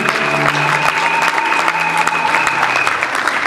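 A church congregation applauds and cheers continuously for the name of Jesus, a steady, loud wash of clapping from a crowd filling the room.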